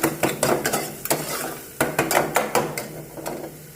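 Onion frying in oil in a pan for khara chicken or mutton, with steady, sizzling hiss broken by repeated sharp clanks and scrapes of a spoon stirring against the metal pan.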